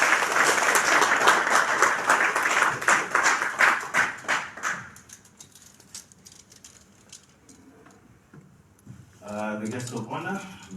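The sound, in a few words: audience applause for a workshop speaker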